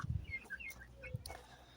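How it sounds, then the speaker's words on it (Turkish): A rooster gives a few short, soft clucks and chirpy calls, quiet and fairly close, with brief gaps between them and no voices. "Bu horoz zaten."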